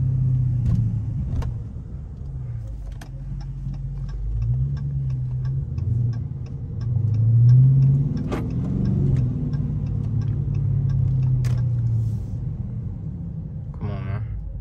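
A Dodge Charger R/T with stock exhaust rumbles steadily while idling or cruising in a daily drive, a low, continuous engine drone with a brief swell midway and faint ticking above it.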